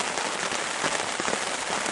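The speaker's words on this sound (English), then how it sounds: "sounds like the rain's slacking off a little bit" Steady rain falls outdoors at a stealth riverside camp during a canoe trip, a dense, even patter that is close and constant with no talking.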